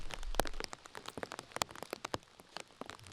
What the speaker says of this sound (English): You can see how heavy the rain is